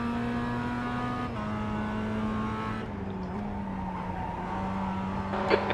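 Race car sliding through a drift in the iRacing sim, tires squealing steadily over a loud continuous engine drone for several seconds, with a brief bump in the squeal near the end.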